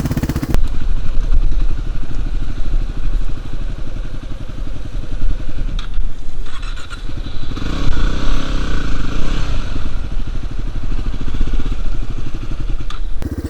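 A big dirt bike engine revving and labouring through a tight wilderness trail in Vermont, loud and close, the throttle rising and falling in bursts, with other bike noise and clatter.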